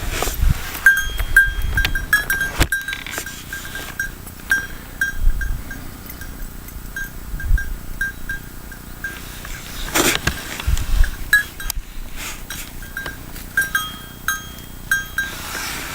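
Goats bleat intermittently at a moderate distance, with occasional clinking sounds and outdoor background noise.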